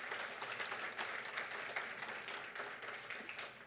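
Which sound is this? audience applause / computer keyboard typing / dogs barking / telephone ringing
audience applause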